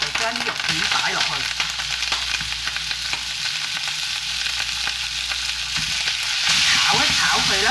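Slices of pork stir-frying in a pan after garlic and ginger are fried in oil, giving a strong, close sizzle with spatula stirring and scraping, growing louder toward the end.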